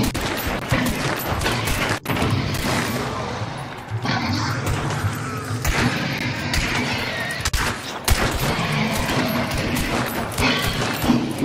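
Gunfire in the video game Hunt: Showdown, dense bursts of shots and sharp bangs with thuds and crashes mixed through a busy, loud soundscape lasting several seconds.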